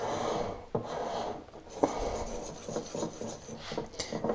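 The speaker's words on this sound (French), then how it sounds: "je commence à y aller un peu plus vigoureusement pour casser les grumeaux, justement avec le fouet" A whisk scrapes and beats crêpe batter in a bowl, with steady rubbing and clinking strokes and a few sharper knocks against the bowl, fairly quiet and close, with no talk.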